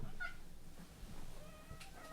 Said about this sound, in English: My kitty has decided to interrupt.